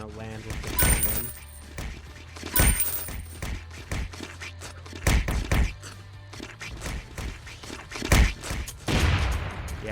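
Cannon fire in the Tongue Battles video game, with repeated loud booming blasts in irregular bursts over a constant game soundscape.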